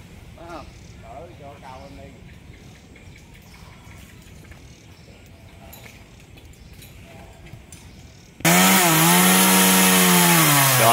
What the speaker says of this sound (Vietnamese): Rồi chọn qua đó để cưa cái nhánh đó